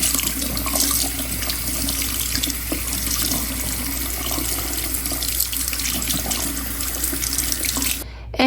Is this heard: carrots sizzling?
no